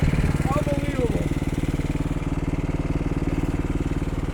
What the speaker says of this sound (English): This thing is just an awesome snowblower.